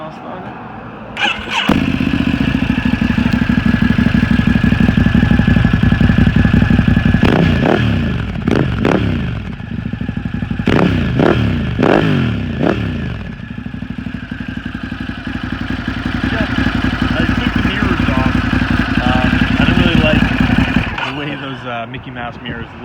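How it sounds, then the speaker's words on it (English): A Ducati Hypermotard 950 SP with a full Termignoni racing exhaust cranks and fires up, then settles into a loud, lumpy idle broken by several sharp throttle blips. A voice speaks briefly near the end. "Gonna put a little start up for you guys, just to kind of. It's got the full Termioning Racing exhaust on"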